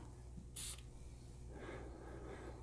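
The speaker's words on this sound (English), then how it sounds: "Spray it one more time, just to make sure." A single short, sharp hiss of perfume spray from an atomizer, close and brief, followed by a soft breathy sniff in a quiet room.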